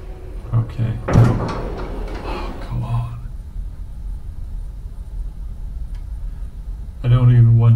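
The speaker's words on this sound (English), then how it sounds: "Close the doors." Elevator doors slide shut in the indie horror game Elevator Horror, a low rumbling thud that settles into a hum, with a second heavy door clunk near the end; a player speaks anxiously over it.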